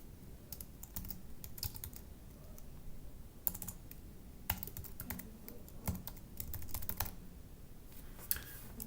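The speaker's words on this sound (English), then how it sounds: "notice how I am typing" Quiet keystrokes on a computer keyboard come in irregular bursts and short runs, a soft close clatter with brief pauses between words.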